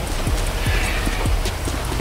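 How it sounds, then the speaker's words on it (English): Steady video game rain patters over a low background, with dull rhythmic thuds like hoofbeats clopping along, fairly loud and continuous. "It's raining again."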